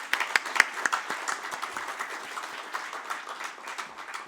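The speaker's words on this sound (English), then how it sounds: "Can we give Dr. Anton a big round of applause?" A seated audience applauds Dr. Anton at an opening speech, producing dense, steady clapping that swells slightly near the start and continues evenly throughout.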